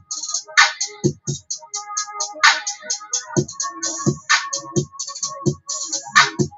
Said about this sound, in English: the only sounds you are hearing are the Cymatics Slayer